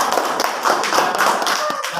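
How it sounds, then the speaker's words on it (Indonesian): Audience at an elementary school teacher talk show in Majalengka claps together in a brief, dense burst of hand claps that holds steady throughout. "Tepuk tangan untuk Ibu."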